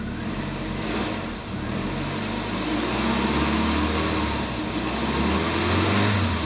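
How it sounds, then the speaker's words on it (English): A car's engine running and revving after it finally starts, a loud, close, continuous mid-range roar that rises and holds steady, with no talk over it. "We got the car going!"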